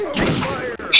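Gunfire from the Perfect Dark video game, a short burst with a bright sharp shot at the very end, heard amid game sounds and a voice.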